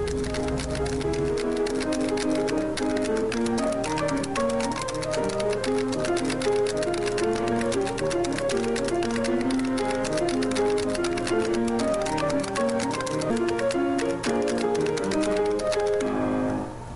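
A player piano roll recording machine in use: a pianist plays continuously while a row of carbon styli marks the underside of moving paper, giving a steady rapid mechanical tapping under dense piano notes throughout.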